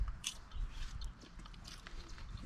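Someone bites and chews crunchy Sriracha popcorn made in a kettle corn machine, giving a few close, soft crunching bites followed by quieter chewing, with no talking.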